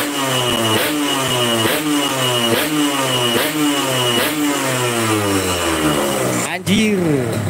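Motorcycle with a clogged stock exhaust revving hard and close: a loud, steady, buzzing engine note that repeatedly climbs and drops in rapid surges, then briefly cuts out and picks up again near the end.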